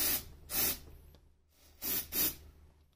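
Four short hissing sprays from an aerosol can into a diesel injector hole on a Jaguar X-type 2.0d, spaced unevenly, close and fairly soft.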